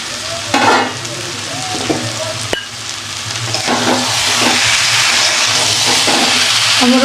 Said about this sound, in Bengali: আবারও ভালোভাবে কষিয়ে নিলাম।